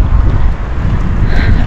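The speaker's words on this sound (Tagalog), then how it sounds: "biglang yung weather natin ay naging mahangin at malamig-lamig" Cold wind blowing outdoors in Finland, a loud, steady rumbling gust buffeting the microphone, close and continuous with no talking.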